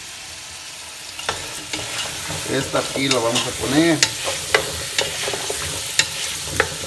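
Small pasta fries and is stirred in a pot for shrimp soup, a soft sizzle broken by scraping spoon strokes; someone speaks briefly in Spanish over the cooking.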